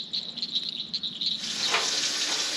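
Bait crickets chirp in a steady high trill, kept for a day of freshwater bluegill and flier bream fishing at Lake George, with the chirping growing denser and louder after the first second and no talk over it.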